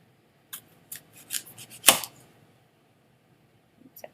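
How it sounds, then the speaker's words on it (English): An apple cut in half with a knife during a fruit and flower dissection: a few short crisp slicing cuts, then one sharp louder crack of the blade through the fruit, close and otherwise quiet. "if I cut the apple in half"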